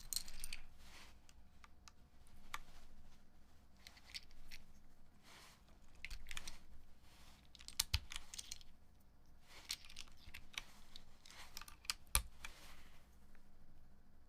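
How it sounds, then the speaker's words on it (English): Keycaps being pushed down onto a keyboard one after another, a run of quiet, close plastic clicks and taps at an uneven pace, with no talking. "I'm gonna switch it after I punch in all of these keycaps."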